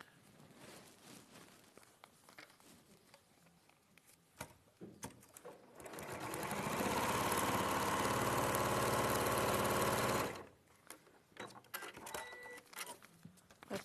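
A sewing machine stitches quilt rows together in a steady, close run of rapid mechanical whirring lasting a few seconds, with quiet handling and fabric sounds before and after.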